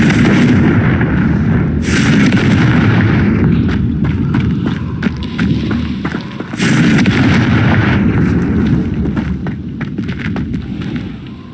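Repeated fiery spell explosions from Hogwarts Legacy gameplay, loud booming blasts with crackling bursts over a continuous rumbling game score, two sharp eruptions standing out among steady pops.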